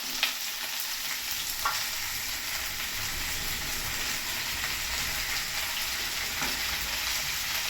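Tomatoes sauté in a hot pan with a steady, crackling sizzle, close by, with a few faint clinks of stirring now and then.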